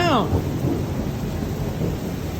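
Rolling thunder from a nearby lightning strike rumbles on through a steady downpour, fading slowly under continuous rain, with a short voice at the very start.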